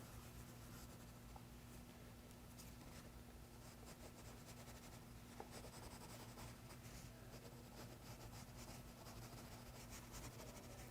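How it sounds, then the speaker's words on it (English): Green colored pencil shades an apple drawing on paper with a continuous, soft, close scratching that runs steadily throughout, faint against a low electrical hum. "I'm going to add with the green pencil"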